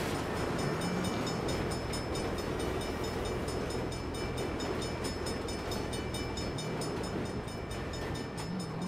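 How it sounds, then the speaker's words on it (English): Train rumbling past in the Saints Row video game, a steady dense roar with faint rail clatter that fills the whole stretch without letting up. "Bollocks! Bad time for a train."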